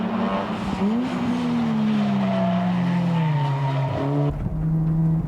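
A car cornering hard during a driving challenge at Nikko, engine droning loudly with sustained tire squeal and skidding close by, pitch shifting as it works through the turn.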